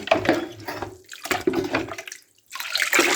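Water is poured from a container over drain opener in a basin of greasy stove grates, making a close, loud splashing gush in two bursts with a short pause between them.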